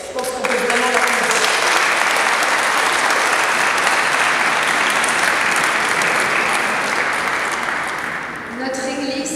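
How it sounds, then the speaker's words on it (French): A crowd applauds at the mayor's speech for the centenary of the Saint-Jacques-le-Majeur church in Nilvange, loud, dense clapping held for about nine seconds before it fades slightly. "Je pense qu'on peut vraiment l'applaudir."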